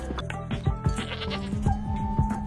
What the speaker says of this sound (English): You stole a goat.